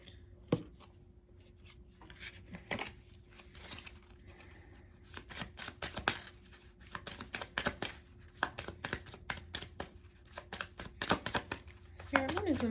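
Botanical Inspirations oracle cards are shuffled by hand in short bursts of papery riffling and flicking, irregular and close. Intermittent soft tapping and rustling accompany them, with a voice speaking now and then over the shuffling.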